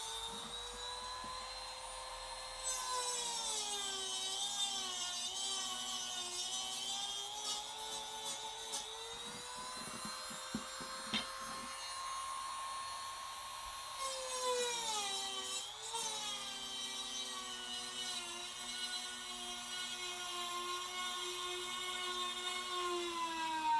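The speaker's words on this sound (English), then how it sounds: "I'm going to go ahead and use a little Dremel with a cutting bit on it to go ahead and remove the bulk of the material" A small Dremel rotary tool with a cutting bit grinds away material on a custom backup camera adapter plate, a loud continuous high whine that shifts pitch as the load changes, close and sustained.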